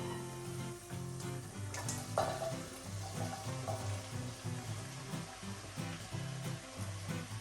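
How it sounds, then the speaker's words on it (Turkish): Jerusalem artichoke, potato and carrot sauté in olive oil with onion and garlic, giving a steady close sizzle and crackle over a constant hum, with occasional clinks. "Şimdi diğer sebzelerin hepsini beraber ilave edeceğim."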